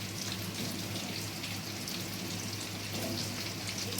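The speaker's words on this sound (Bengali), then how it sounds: "প্রথমেই আমি আলু দিয়ে দিচ্ছি" Chandramukhi potatoes fry in a pan for a Bengali pui shak and prawn dish, giving a steady, soft sizzling hiss with fine crackle that holds level throughout.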